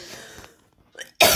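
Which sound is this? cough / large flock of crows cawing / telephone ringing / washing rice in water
cough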